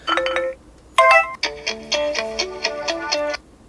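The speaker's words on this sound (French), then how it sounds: "on va prendre un petit peu la sonnerie" A bright electronic ringtone melody plays from a LeTV Le1 Pro X800 phone, a short chime phrase, a pause, then a quicker repeating tune of plinking tones, close and clear.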